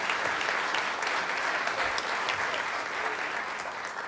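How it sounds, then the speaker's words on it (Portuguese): Steady audience applause fills a ceremony hall where an honorary citizenship title is being presented, dense continuous clapping at moderate distance with no voices over it. "merecem o nosso aplauso"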